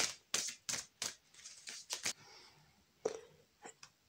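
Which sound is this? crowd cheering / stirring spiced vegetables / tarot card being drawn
tarot card being drawn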